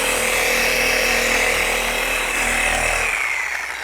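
A 3401 dual-action polisher spreading polish over car paint, a steady loud continuous whir running throughout and tapering off at the end, with no talking.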